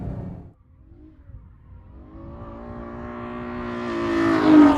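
A Ferrari F12 with stability control switched off revs up from near idle, the engine note climbing smoothly and steadily in pitch and loudness to a strong, close peak near the end.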